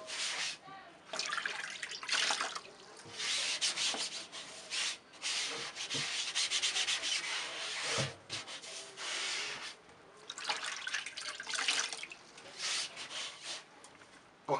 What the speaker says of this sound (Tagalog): ganyan po paghugas ng pintura. Tubig lang kung ano kailangan natin.